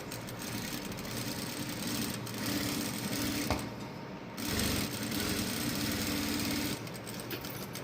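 Sewing machine stitching steadily along the edge of canvas, a continuous close mechanical whir with a short dip partway through before resuming at the same pace.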